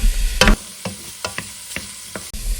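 Sausage (1.5 pounds) sizzles in a pan under a steady hiss while a utensil stirs and scrapes it, giving a loud scrape at the start and then several sharp clicks at irregular intervals, up close with no talking.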